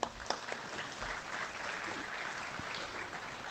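Applause at a cattle ranch spring bull sale, a crowd clapping steadily at a moderate distance, fairly faint, with a few sharper claps at the start.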